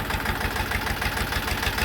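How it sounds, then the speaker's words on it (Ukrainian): Kentavr 244 tractor engine idling before mowing with a Lisicki rotary mower, a steady, close diesel chug with an even rhythmic knock and no voices. "Ну що ж, їдемо косити ось таким трактором."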